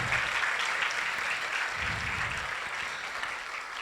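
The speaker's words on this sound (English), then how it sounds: "Give a round of applause for your parents" At a Dubai awards ceremony for top students, a large audience claps for the parents in a dense, steady wash of applause that holds at an even level throughout.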